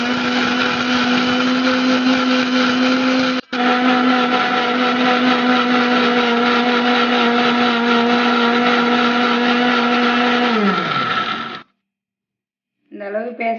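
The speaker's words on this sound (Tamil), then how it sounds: "இப்போ வந்து தேங்காய், முந்திரி பருப்பு, கசகசா போட்டு வச்சுட்டு தேங்காவை அரைச்சிக்கிறேன்." A mixer grinder blends coconut, cashews and poppy seeds into paste with a loud, steady whir that runs for about eleven seconds, dips briefly once, then winds down and stops before a short restart burst.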